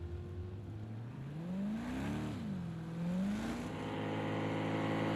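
Porsche GTE race cars roar around the Le Mans circuit, an engine note climbing through the gears, dipping and rising again as the cars run close together, loud and near without voices.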